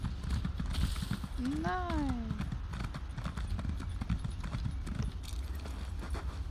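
Horse hooves clip-clop at a steady trot in The Elder Scrolls Online, continuous and fairly close beneath game ambience, with a brief whinny in the middle and someone speaking German over it.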